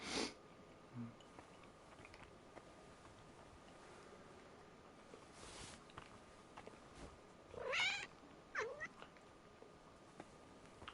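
A cat in Kingdom Come Deliverance II gives a few short, distinct meows against a quiet, steady background hum, with no talking.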